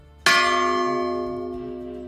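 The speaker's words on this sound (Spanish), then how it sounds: "Fermín, si fuese un hombre, ¿cómo sería ese repique de campanas?" A single church bell strikes once, loud and near, its bright tone ringing on and slowly fading with no speech.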